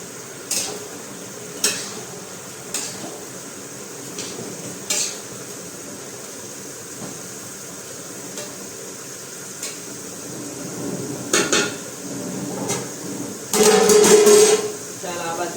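A cauliflower, pigeon pea and potato curry stirred in a pan, with intermittent scraping and clinks of a spoon against metal over a soft sizzle while someone talks.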